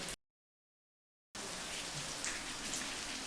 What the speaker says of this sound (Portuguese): E agora tá chovendo e o meu quarto tá simplesmente alagado